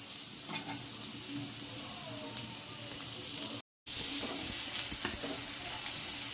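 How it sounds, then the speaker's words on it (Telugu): Small bitter gourds frying with chili powder in a pan give a steady, close hiss of sizzling oil with faint stirring scrapes, broken by a brief moment of silence partway through. "కొంతసేపు ఇలా వేపుకుందామండి 5 మినిట్స్"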